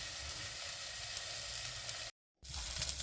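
Onions sizzle in hot oil in a pan for a curry, a steady close crackling hiss that cuts out briefly and then resumes.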